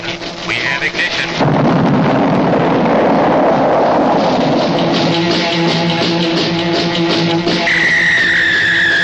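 Rocket engine igniting at launch, heard as a sudden swelling roar that opens into a loud, sustained rumbling blast with crackling texture, steady and overwhelming, plus a faint tonal whine near the end.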